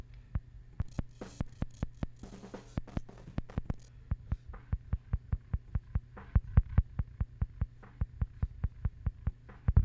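An unequalised kick drum from the out mic, boomy and close, pounds in a steady repeating pattern of hits, quicker and busier at first, then settling into an even groove that grows slightly louder toward the end.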